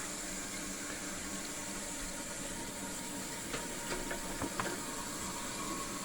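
Steady rushing water flows continuously from toilet rim jets, with a few faint clicks and knocks near the end. No voices are heard.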